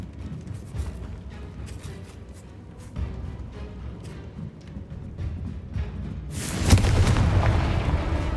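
Confringo spell explosions in Hogwarts Legacy, with scattered booming impacts and then a loud, sustained blast near the end, over rumbling game sound.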